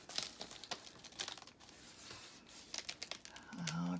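Plastic-covered handmade journal cover folded in half, giving a string of crinkling, crackling plastic rustles in close, uneven bursts, with a brief tonal squeak near the end.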